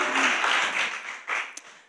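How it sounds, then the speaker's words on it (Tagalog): Congregation at a Manila church service clapping together, a dense, steady patter of many hands held for about two seconds with a brief louder swell near the end. "palakpak nga po tayo"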